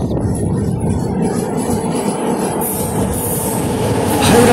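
A train rolls past at a crossing, heard from aboard another train on an Indian Railways route, a loud steady rumble of wheels and carriages that swells near the end.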